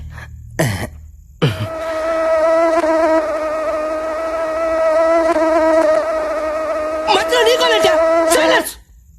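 Mosquito buzzing in a Telugu horror comedy film scene: a loud, close, sustained whine lasting several seconds and wavering in pitch, preceded by two sharp hits and ending abruptly.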